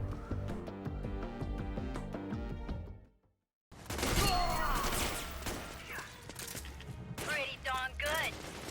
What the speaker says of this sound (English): I'm firing singular bullets every time